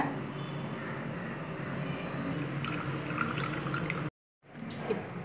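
Ground ginger juice, blended with water, is filtered, giving a steady, soft trickling and dripping of liquid that runs on continuously before a brief silence and a few faint drips.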